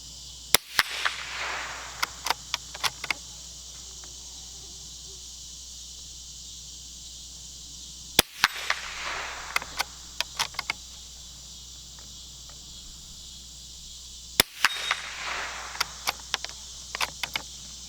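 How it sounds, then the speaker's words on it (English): A Winchester Model 72 bolt action rifle fires at a steel target outdoors, three sharp shots spaced several seconds apart, each followed by bolt clicks, over constant insect chirring. "I'm gonna give it a few plinks and see how it does"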